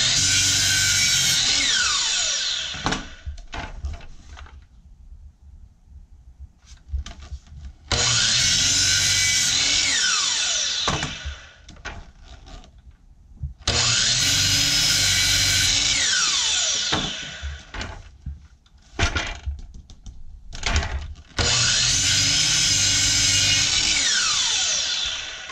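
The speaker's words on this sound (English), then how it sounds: "Cut this other end." A power tool cutting wood while building a carpenter bee trap: loud, sustained whining bursts of several seconds each, separated by short quiet pauses and occasional brief clatter, with no talking.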